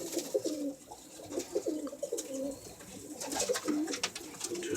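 Pigeons cooing in a loft, repeated soft throaty coos overlapping in uneven bursts close by, with some fluttering and rustle in the background and no talk.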